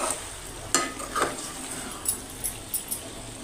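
Chicken pieces fry in oil with chili powder and coriander powder while being stirred, a soft sizzle broken by several close scraping and clinking strokes of a utensil against the pan.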